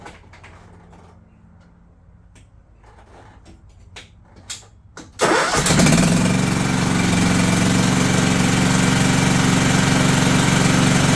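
A John Deere LT160 lawn tractor engine starts up after some quiet clicks and knocks, then runs loud and steady close by for about six seconds with a rough, droning roar.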